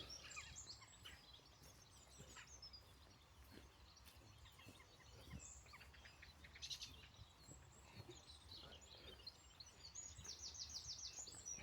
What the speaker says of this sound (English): Spring bird song is, I hope you can hear it, it's wonderful.